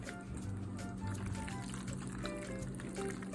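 Chicken fajita pasta simmering in a pot, a steady close bubbling and sizzling hiss that runs continuously without pause.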